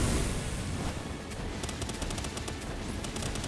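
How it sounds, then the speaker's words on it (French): Rapid repeating gunfire from an automatic weapon in a video game boss fight, a dense continuous stream of shots with sharp bursts that keeps going without pause for the whole stretch. "moi j'ai une arme qui a répétition donc elle s'arrête pas"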